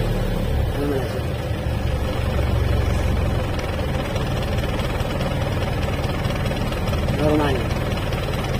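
Isuzu 4BC2 diesel engine idling after an oil change, a steady low rumble with a faint knocking rhythm, recorded nearby with brief voices over it.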